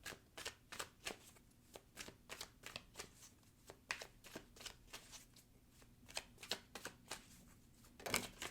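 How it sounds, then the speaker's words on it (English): Tarot cards are riffled and shuffled in a quick irregular series of crisp flutters and taps, close and quiet, with no talking. "if you like to stick around and listen to cards being shuffled"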